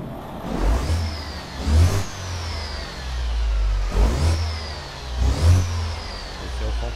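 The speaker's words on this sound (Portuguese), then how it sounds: "Esse é o som que está nesse caminhão agora." A truck engine in Euro Truck Simulator 2 revs repeatedly over a low rumble, each rise sweeping up and falling back in a regular cycle, loud and continuous with no voices.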